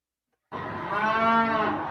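Cattle raised at the Louisiana State Penitentiary let out a single long, loud moo that starts abruptly after a short silence and holds steady to the end, close and unaccompanied.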